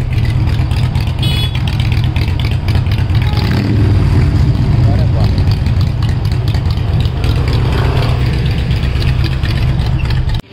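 Engines of vehicles in heavy traffic on the mountain road to Mussoorie, a loud, continuous drone with some revving as bikes move past, close and steady throughout, with voices faintly underneath.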